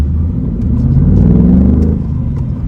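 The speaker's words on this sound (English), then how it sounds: "One more time, we'll step out on the gas into this highway." A 2023 Ford Mustang Mach 1 engine roars steadily as it accelerates on a highway, a deep, loud rumble that swells in the middle and eases slightly toward the end.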